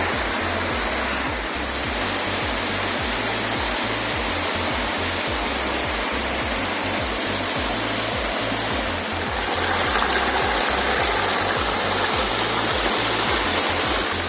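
Mountain waterfall in the Chornohora range, a steady, loud rushing roar of falling water that continues unbroken, close by and alone.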